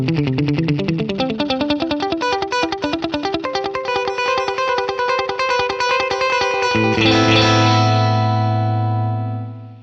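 Electric guitar run through a Boss DD-20 delay pedal with its tone control turned up, a quick run of bright picked notes echoing densely before a sustained chord rings out and slowly fades, loud and alone.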